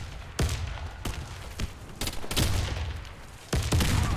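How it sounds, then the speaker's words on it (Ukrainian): Grenade blasts and gunfire in a first-person shooter match, a run of sharp loud broadband bangs and thuds arriving in quick succession over a noisy battle backdrop. "Граната пошла! Граната!"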